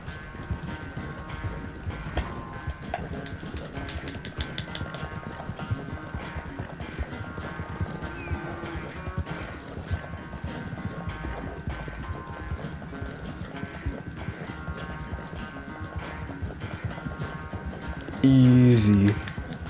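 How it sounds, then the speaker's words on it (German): Horse hooves clip-clop in a steady galloping rhythm in Red Dead Redemption 2, with a voice talking over the ride and a louder burst near the end. "Ich habe ein langsameres Pferd."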